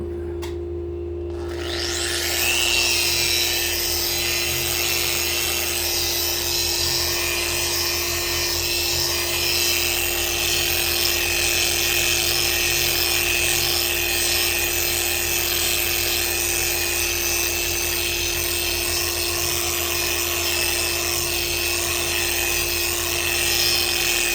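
A power polisher buffing a guitar body whirs up and keeps up a steady high-pitched buzzing drone without a break, with a constant low hum underneath.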